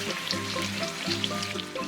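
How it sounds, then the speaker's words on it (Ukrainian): Hot oil sizzles and crackles steadily with small popping bubbles as an empanada fries, close and continuous. "Смажимо другий. Буквально одразу з'являються бульбашки, і це добре."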